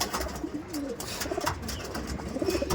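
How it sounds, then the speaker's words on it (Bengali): Tournament-quality racing pigeons with pilanka eyes coo softly and repeatedly nearby, with low murmuring calls over a faint background hum and no talk. "অনেক সব পিলাঙ্কা চোখের পায়রা"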